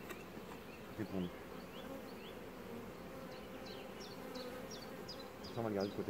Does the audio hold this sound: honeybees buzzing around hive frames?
yes